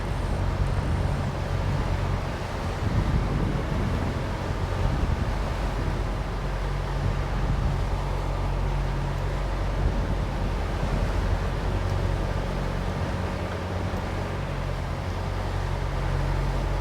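Beam-on sea swell and waves wash against a Sealine S28 motor cruiser as it returns to Hull Marina at about 7 knots. A steady, dense rush of water and wind noise runs throughout over a low engine hum.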